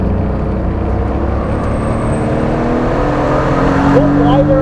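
Championship racing motorcycles at Mission Raceway roar in a loud, continuous engine drone that swells slightly toward the end, with voices over the noise.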